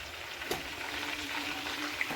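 Mango pickle sizzling in hot oil as Kashmiri chili powder goes in, a soft steady frying hiss with a couple of faint clicks, quiet and close.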